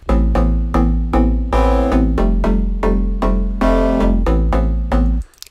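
Layered chords and bass from the Serum software synth, both shaped by the same envelope, play together as a loud, rhythmic pattern of repeated stabs with a short tail at the end.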